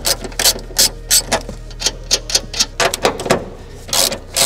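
Ratchet clicking in quick bursts while strut bolts are loosened on a 2022 Subaru WRX during a coilover install, sharp metallic ticks close by in an irregular rhythm with short pauses.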